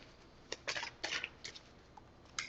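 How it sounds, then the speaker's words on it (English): Tarot cards being shuffled by hand in a quick short shuffle, a few faint, brief papery riffle bursts separated by pauses in a quiet room, with no voices. "Oh, Lord. That's a short shuffle."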